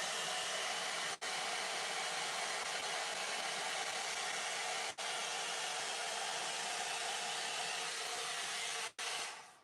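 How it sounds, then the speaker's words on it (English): A blow dryer roars steadily and close while drying the top of a wet wig cap, with the airflow cutting out briefly three times. "Blow dryer, top of the cap."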